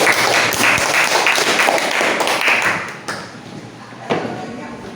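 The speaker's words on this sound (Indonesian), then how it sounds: "Berikan tepuk tangan untuk Angela" A classroom audience at a university teaching session applauds a student presenter, a short burst of clapping that thins out after about three seconds, leaving a few scattered claps and taps.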